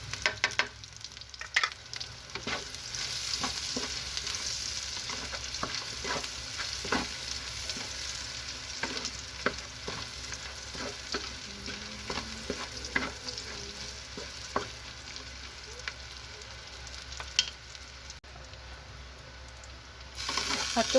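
Garlic sautés in a hot pan for stir-fried kangkong, with a continuous close sizzle broken by scraping stirs and occasional spatters, steady throughout with no talking.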